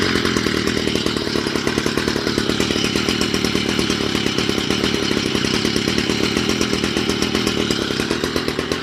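A Stihl MM55 garden tiller's small two-stroke engine runs steadily after a pull start, a loud, close, buzzing drone with fast regular firing pulses throughout and no speech.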